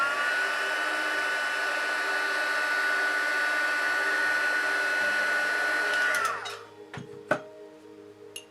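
A heat gun used to heat set a crease blows with a steady whining hiss for about six seconds, then winds down, followed by a few light knocks.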